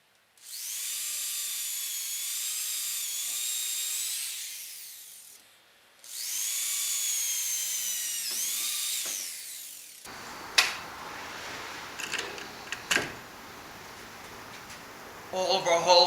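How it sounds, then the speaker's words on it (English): A power drill with a 3/8 inch bit whines loudly and steadily through holes in a Lifetime Tamarack kayak in two long runs, followed by quieter clicks and handling noises. "we use a 3/8 inch drill bit, to make our holes."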